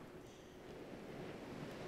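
Ocean waves in the video game Salt make a soft, steady, faint wash of surf that rolls on evenly with no other sounds.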